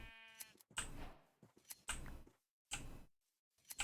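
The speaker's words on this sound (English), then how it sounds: "Shear these sheep so I can get a bed of my own" Sheep in the video game Minecraft bleat in three or four short, close, clear cries with brief gaps between them, heard alone without speech.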